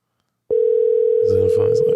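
A telephone tone during a phone call begins abruptly and holds as one steady, loud, continuous tone, with voices starting to talk over it near the end.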